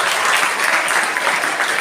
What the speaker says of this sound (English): big applause to ma'am as well for participating